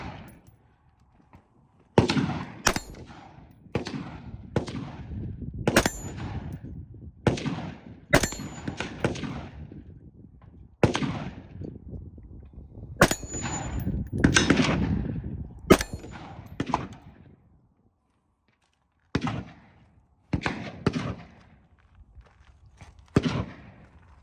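Single AR-15 rifle shots fired at an outdoor shooting range, loud sharp cracks spaced irregularly about a second or two apart, with a pause of several seconds before a final few shots.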